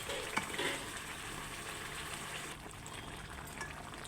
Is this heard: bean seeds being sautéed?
yes